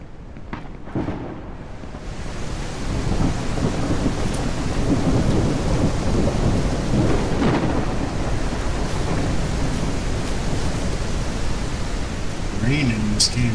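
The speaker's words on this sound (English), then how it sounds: "Rain in this game is just amazing." Steady rain pours with rumbling thunder in the survival video game No One Survived, a dense continuous wash that swells after the first few seconds and stays loud throughout.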